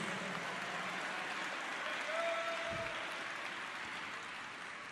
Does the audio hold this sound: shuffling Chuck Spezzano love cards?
no